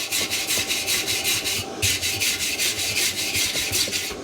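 Flux residue is rubbed off a fresh MIG weld in rapid back-and-forth strokes, a loud rhythmic scratchy rasp with one short pause partway through.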